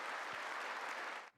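Sustained, dense applause from Republican lawmakers in the chamber during a presidential State of the Union address, a steady wash of many hands that cuts off sharply near the end.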